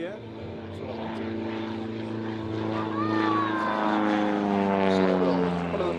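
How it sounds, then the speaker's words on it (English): An aerobatic plane with a 180 hp six-cylinder Lycoming engine performs at an air display, its loud propeller drone rising and shifting in pitch as it manoeuvres, swelling toward the end. "Making the noise up the front is the Lycoming, 180 horsepower, 6-cylinder."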